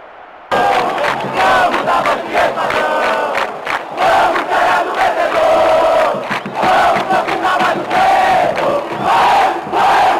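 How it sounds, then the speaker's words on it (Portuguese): A loud, roaring stadium crowd cheers a goal in the football video game PES 2010, a dense sustained wall of voices and shouts surging in waves with no commentary over it. "O barulho da torcida é ensurdecedor."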